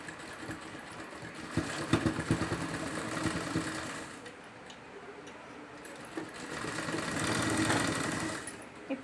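Sewing machine stitching a cotton cloth handle bag, running in steady rhythmic bursts of close mechanical whirring and ticking, pausing briefly midway and then resuming.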